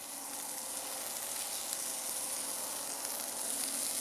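Steady, close sizzling and crackling of a peppered steak frying in a hot pan, constant and moderately quiet throughout, with no voices.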